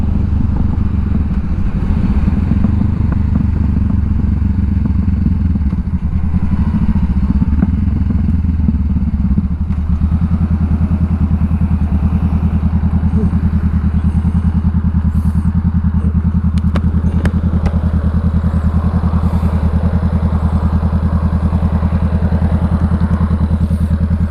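A Honda CBR500R motorcycle on a ride gives a loud steady engine drone with deep low rumble and wind roar throughout, the engine note shifting slightly partway through as the bike cruises.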